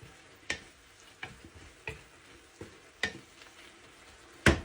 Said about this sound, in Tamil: நாங்கள் ஒருக்கா பிரட்டி விடுவோம்.